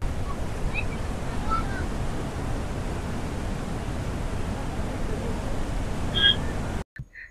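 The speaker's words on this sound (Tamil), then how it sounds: "அந்த தண்ணியோட இறைச்சல் சத்தம் கேட்டீங்களா?" A loud, steady roar of water gushing through the open gates of Poondi Dam fills the scene without pause, then cuts off abruptly just before the end.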